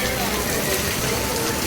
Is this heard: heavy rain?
yes